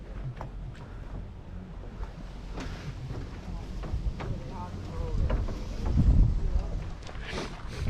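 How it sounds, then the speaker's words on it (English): A breezy day outdoors on the Norfolk Broads brings steady wind rumble buffeting the microphone, strengthening into a louder gust near the end while a person talks. "Quite breezy though."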